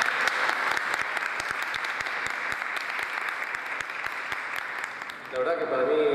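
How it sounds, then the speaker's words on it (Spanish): Sustained applause from an audience at a ceremony honoring an Argentine Taekwondo athlete, dense steady clapping throughout that dips briefly near the end as a voice begins speaking over it. "Así que un aplauso."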